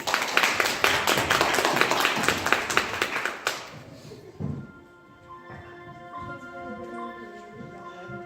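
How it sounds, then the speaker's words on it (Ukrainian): Audience applause for the performers of a children's play about St. Nicholas losing his mitten, dense and steady clapping for about three and a half seconds before stopping abruptly, followed by quiet room sounds and soft music. "Отож, оплесками підтримаємо наших казкових героїв."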